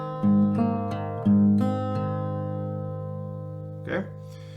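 An acoustic guitar plays the G section of a song: two strummed chords with sharp attacks ring out and decay, followed by a softer, briefer strum near the end, with no talking.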